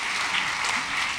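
Audience applause at an awards ceremony, a steady, dense wash of clapping from a crowd that holds evenly loud across the whole short stretch.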